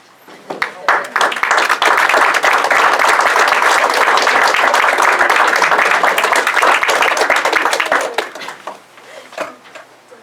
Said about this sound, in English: So I would like you to stand up so we can give you an applause.